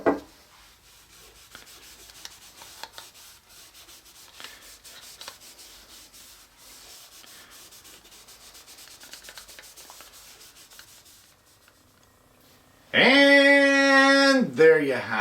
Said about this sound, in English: let's apply a couple coats of this Danish oil and just see how it brings out some of the grains